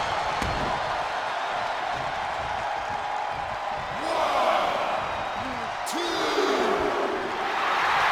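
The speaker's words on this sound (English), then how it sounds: "What a raucous crowd here tonight." Raucous arena crowd noise at a video game wrestling event, a steady broad roar that swells twice with louder cheering bursts and sharp impact hits, under a commentator's voice.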